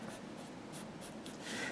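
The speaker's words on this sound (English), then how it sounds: "So we'll right now put the outline in nice and smoothly." A pencil scratches steadily across paper, drawing an outline in smooth continuous strokes, close and quiet with a few brighter swishes toward the end.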